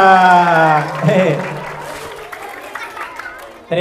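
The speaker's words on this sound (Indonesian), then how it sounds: "Tepuk tangan dulu dah." Applause from a children's audience at a storytelling show about the Prophet Muhammad, loud at first and then thinning out, with talk layered over the opening and a burst of noise at the end.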